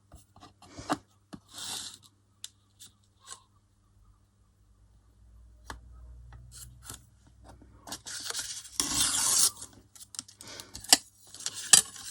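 Scissors cut paper for a journal flip pocket, with scattered close snips and sliding rasps, a few quiet pauses, then a louder burst of scraping cuts near the end.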